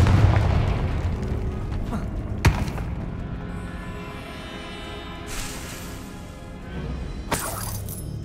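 A Confringo spell is cast in Hogwarts Legacy, landing as a sharp, loud burst followed by a shattering crash, then further blasts and crackling impacts over a steady game soundscape.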